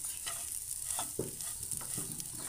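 Chunks of mashed potato roast with spices in a pan, stirred in short scraping strokes over a soft sizzle, close up and with no voices.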